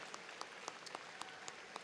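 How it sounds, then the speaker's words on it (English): Commencement ceremony audience applauding, a faint, distant wash of steady clapping with a few sharper claps standing out at regular intervals. "Big round of applause there."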